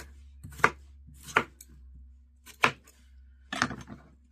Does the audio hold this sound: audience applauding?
no